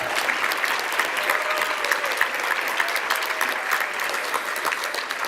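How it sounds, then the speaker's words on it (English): A large audience at a women's achievement awards event claps steadily and loudly for a platinum sponsor, dense uniform applause holding for the whole stretch with no speech over it. "You can applaud."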